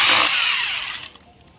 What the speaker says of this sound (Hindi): तो इसे दोबारा से ड्रिल करना होगा इस जगह पे